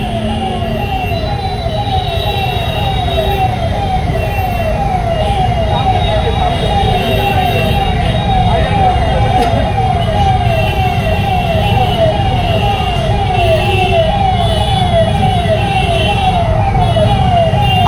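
Ambulance siren wailing continuously in a steady repeating pattern as it pushes through a crowded street, loud and close, with traffic rumble and voices underneath.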